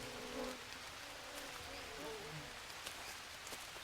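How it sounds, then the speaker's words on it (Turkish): Flies buzz faintly around a corpse in the survival video game Green Hell, a low steady drone with soft scattered ticks in a quiet jungle scene. "Sinek var dur."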